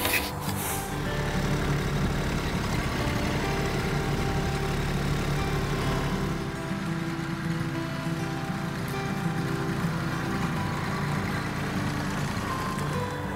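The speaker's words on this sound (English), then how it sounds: "the Kubota compact tractor, together with the front loader, is a very nice tool to remove some stuff" A Kubota B2261 compact tractor with a front loader works steadily nearby, its continuous diesel drone mixed with scraping and rubbing noise, a brief louder clatter at the start and no talk.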